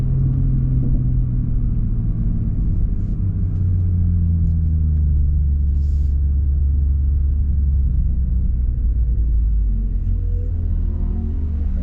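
Toyota A90 Supra engine launching in second gear around 2,000 RPM at a drag race, a loud, sustained low rumble that climbs steadily as the car accelerates.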